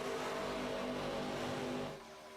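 ARCA stock car engines roar loudly at racing speed in an iRacing race at Daytona, a steady dense engine drone that drops off abruptly near the end.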